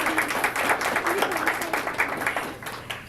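An audience claps for the contestants at a Spooky Stories storytelling event, a lively burst of individual hand claps that thins out toward the end.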